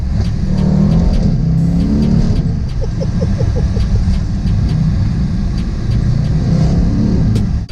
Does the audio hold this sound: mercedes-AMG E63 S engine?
yes